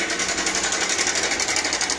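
Car engine rattling from a faulty timing chain adjuster, a loud, steady, fast metallic clatter running continuously without a break.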